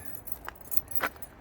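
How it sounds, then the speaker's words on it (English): A bunch of old mailbox keys jangling, a couple of brief, faint metallic clinks close by over quiet background noise. "So grab a bunch of random keys."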